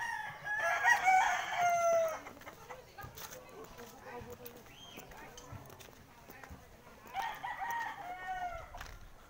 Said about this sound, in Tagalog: Ayan, yung manok na yan.